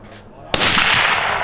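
A single loud rifle shot fired at battleship targets in an outdoor challenge at Littlestown cracks sharply and then rings out in a fading echo.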